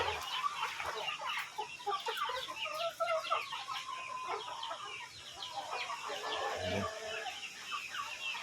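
Several roosters crow over a steady backdrop of hens clucking and chattering, dense and continuous, with occasional louder calls close by.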